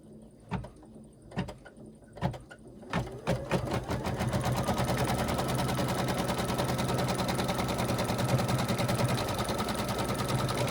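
A sewing machine stitches down a folded strip of table runner fabric, starting with a few short separate bursts and then running in one loud, continuous rapid whir.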